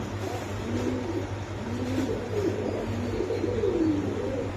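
Soft, repeated cooing of pigeons in a steady rhythm over a low, constant hum of traffic or an engine.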